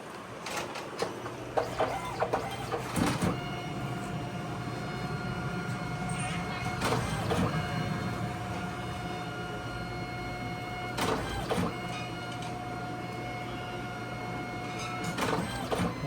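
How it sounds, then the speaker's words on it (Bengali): A DNP photo printer runs a sample print, giving a steady mechanical whir with a constant hum and sharp clicks and clunks at intervals, close by, with brief voices in the room. "এবার প্রিন্ট ছাড়েন আর কিচ্ছু করতে হবে না"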